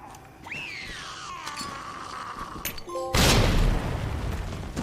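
In the Resident Evil 2 video game, a grenade is thrown at zombies: a rising whistle-like tone and faint thuds, then a sudden loud blast with a rumbling roar that slowly fades.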